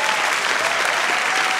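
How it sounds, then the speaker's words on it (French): Studio audience applauding a comedian on a French late-night comedy show, a dense, steady wash of clapping held at an even level throughout without a break. "Mais merci quand même, Emeric, qu'on peut applaudir parce qu'il n'a pas démérité."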